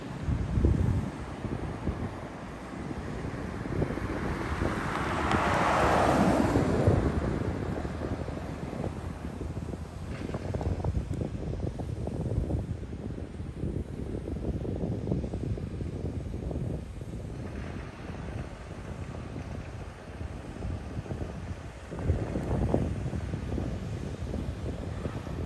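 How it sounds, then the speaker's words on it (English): Gusty outdoor wind buffeting the microphone at the Starbase SpaceX launch site in Texas, a steady broadband roar that swells around the middle and persists throughout without speech. "Windy today."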